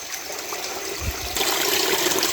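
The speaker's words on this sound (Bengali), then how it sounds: "এই যে দেখেন ঝর্ণাটা" A large waterfall near a bamboo grove gives a steady rushing flow of water, with a few low thumps midway, and the wash grows slightly louder toward the end.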